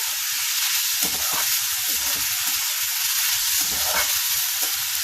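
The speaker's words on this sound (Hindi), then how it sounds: "प्याज को हमें इस तरह से भूनना है।" Three medium onions with a little salt fry over high flame in a pan, giving a constant close sizzle with occasional soft stirring scrapes.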